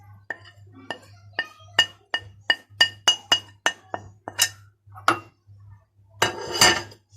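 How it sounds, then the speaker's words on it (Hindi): A spoon stirs spices into a bowl while cooking stuffed eggplant, with a quick series of bright clinks against the bowl and then a scraping rattle, close and fairly loud. "इसको अच्छे तरीके से मिक्स कर लें।"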